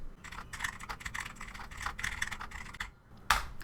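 Quick, light clicking of keys being typed on a computer keyboard, an irregular patter of taps close by, ending with one sharper key press.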